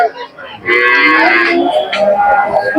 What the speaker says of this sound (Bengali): প্রচুর গরু উঠেছে আপনাদেরকে একটু দেখাচ্ছে দেখেন একেবারে মাঠ ভর্তি গরু